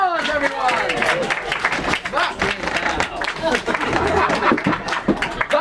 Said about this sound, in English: Round of applause for the plant, everyone!